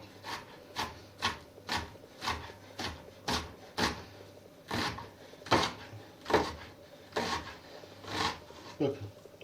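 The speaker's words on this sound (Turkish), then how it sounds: "soğanları doğramaya devam ediyorum" A knife chops onions on a cutting board for a creamy mushroom soup, about twenty close, even strokes in a steady rhythm, each a short rasping thunk, with no talking.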